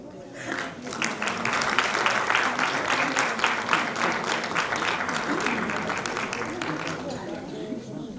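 Audience applause at a centenary ceremony of Liceul Barbu A. Stirbey high school in Buftea, a steady crowd clapping sustained for several seconds in a hall, with a voice talking over it.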